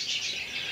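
Canaries, tropical finches and other cage birds at a 1994 bird show chirp together in a dense, continuous high twittering chorus, with no voices present.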